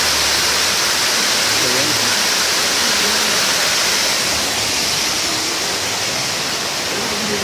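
A small waterfall in the Siloé neighbourhood roars with a loud, steady rush of falling water that fills the whole stretch without pause.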